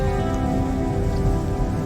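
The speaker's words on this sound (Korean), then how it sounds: "오늘은 비가 많이 온다." Heavy rain pours steadily on a campsite, a dense continuous hiss of drops drumming on surfaces, loud and close with no voices.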